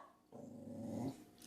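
A dog gives a single low, rumbling growl lasting about a second, close and moderately loud, with no talk.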